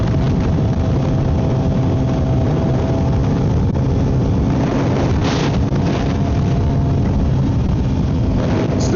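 A Kawasaki Z900 with a full M4 exhaust and ECU flash, ridden along a residential 40 mph road: a steady, close engine drone sits beneath heavy wind rush across the whole stretch, with no talking.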